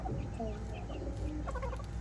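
A hen that is sitting on eggs and has hatched chicks clucks and murmurs softly and close by, a few short low calls over faint background noise, with no talking.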